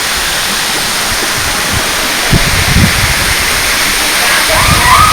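Waterfall at Siddaramappa pond in Srisailam, a steady broadband rush of falling water that stays loud throughout, with a few low splashy surges and a faint thin tone near the end.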